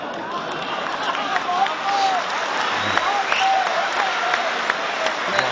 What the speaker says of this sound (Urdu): تالی